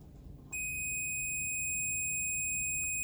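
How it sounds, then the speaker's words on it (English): A multimeter's steady, loud continuity beep, testing between ground and neutral on a household circuit, starts abruptly after half a second and holds continuously to the end, a pure high tone over faint background hiss. "It just beeps when there's continuity."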